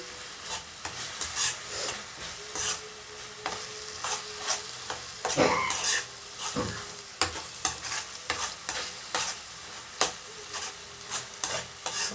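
Spoon stirring green pea masala curry as it fries in oil, a steady sizzle broken by repeated scraping clicks against the pan, close and fairly quiet with no talk.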